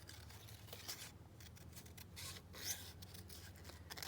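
Scissors snipping and rasping through paper for a collage, a few soft, close cuts and rubs at a quiet level over low background hum.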